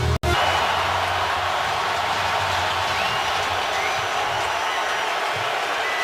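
Home Browns football crowd roaring in a packed stadium during a late first-half third down against the Ravens, a steady loud wash of cheering and crowd noise that swells throughout after a brief cut at the start.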